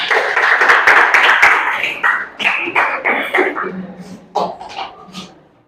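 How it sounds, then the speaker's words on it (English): A classroom group claps briefly for a student, a short burst of close, uneven clapping that thins out into scattered claps. "Can we clap for her, please?"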